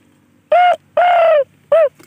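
A wild dove call played through a speaker in a rice field: three dove-like coos in an even sequence, clean and electronic-sounding, two short and one longer, alone against a quiet background.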